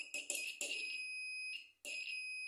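A short-circuit detector beeps in high, steady tones while a microwave magnetron is tested, with a few quick bursts followed by longer sustained beeps, clear and close, and no voices.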